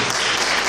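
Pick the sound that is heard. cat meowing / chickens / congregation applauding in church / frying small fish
congregation applauding in church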